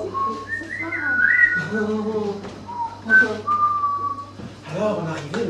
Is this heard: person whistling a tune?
yes